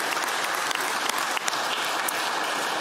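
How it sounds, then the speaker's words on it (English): Members of a legislative assembly in session give a warm round of applause, a dense, even wash of many hands clapping in a large chamber, sustained and moderately loud throughout with no speech. "members, if we can give these folks a warm round of applause"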